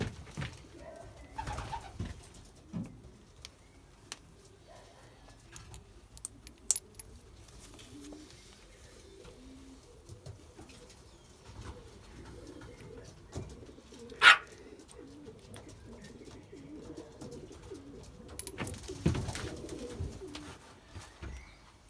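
Belgian racing pigeons coo softly and repeatedly inside a loft, with a steady low murmur of calls and a few faint metallic clinks and taps throughout.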